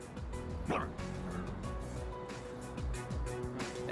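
Stray dog barking in Persona 3 Reload, a few short yips and bow-wows rising over steady game music and ambient background.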